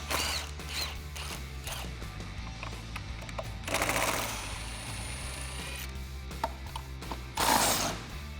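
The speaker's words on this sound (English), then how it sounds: "I'm using our lug nut key as well as a 7/8 inch socket, and I'm going to remove our lug nuts on our JL." Lug nuts being removed from a spare tire on a Jeep Wrangler JL with a 7/8 inch socket and lug nut key, faint repeated ratchet clicks and metallic turning sounds with a few louder bursts.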